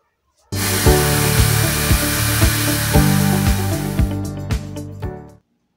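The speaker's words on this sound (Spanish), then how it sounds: "Entonces la voy a batir súper bien para que esponje" An electric hand mixer beats chilled chocolate ice cream mixture until fluffy, starting abruptly with a loud, steady buzzing whine and a rhythmic pulsing, then cutting off near the end.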